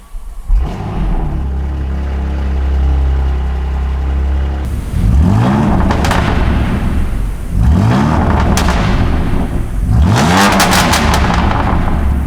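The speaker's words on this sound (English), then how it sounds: "Now let's start the car and hear what the exhaust sounds like with the downpipes." A BMW M2 Competition's S55 engine fitted with downpipes and a Stage 2 tune cranks and fires, then revs in three sharp bursts, each rising and falling loudly with crackling exhaust, heard up close.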